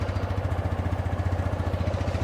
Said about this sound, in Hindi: आइडियल कंडीशन पर इस बाइक के इंजन का साउंड सुनिए।